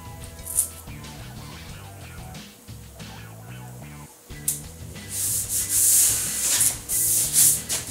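Sanding primer on the upper part of a Lifan car body above a taped crease: close, rhythmic rubbing strokes that grow louder and harsher toward the end, with no talk.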